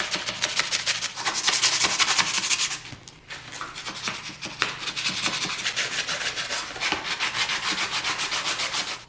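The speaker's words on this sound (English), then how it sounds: "I have 220 grit sandpaper here and just lightly sand this down." A Honda lawnmower wheel shaft is lightly sanded by hand with 220 grit sandpaper, a close rapid rasping rub in steady back-and-forth strokes with one brief pause.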